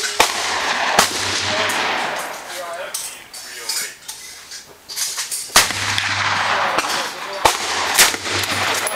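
An AR-15 rifle fires at a shooting lesson. Several loud, sharp cracks ring out with ringing tails, some closely spaced and others separated by pauses, while people talk in between.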